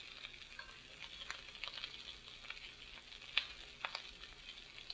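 Jasmine rice cakes fry in a pan over high heat, giving a soft, steady sizzle with scattered small pops and crackles, close but fairly quiet, with no voices.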